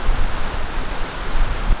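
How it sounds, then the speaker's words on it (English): Strong, gusty wind roars steadily across an open disc golf course and buffets the microphone. The loud broadband rush runs without a break, with no voices over it. "The wind is angry right now."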